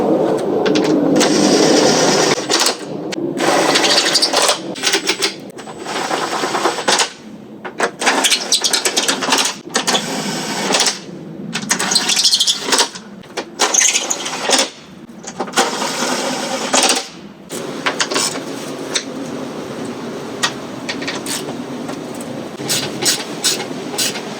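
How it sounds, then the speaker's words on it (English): A pneumatic impact wrench on its low setting works around the bolts on a boat, loud, close and continuous, with short bursts and brief pauses between fastenings. "Now with the impact on the low setting, I can go around, start tightening them"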